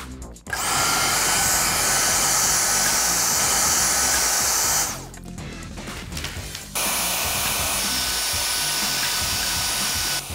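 A Dyson DC31 handheld vacuum cleaner runs close and loud with a steady high-pitched whir, cuts out briefly to rustling, then starts again at full strength.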